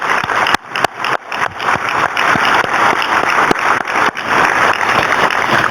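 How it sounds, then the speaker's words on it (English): An audience at a medal presentation applauds its research faculty, steady dense clapping that carries on evenly throughout. "Let's give them a round of applause to all of our faculty."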